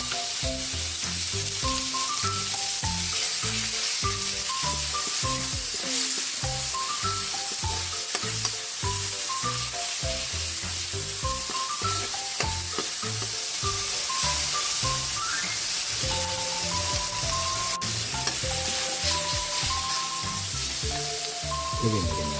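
Tomatoes sizzle and hiss in a hot pan while the cook stirs them for ginisang monggo. A steady frying crackle runs throughout under louder rhythmic background music.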